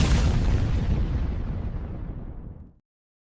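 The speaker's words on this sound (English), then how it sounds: "I will add Zach Taylor's head to that explosion there" A sound-effect explosion, one long rumbling boom with a deep low end, loud and sustained before decaying and cutting off abruptly after under three seconds.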